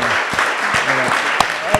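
Brief applause from the audience at a literary round-table event, a short patter of clapping with a few louder individual claps, heard with a speaking voice.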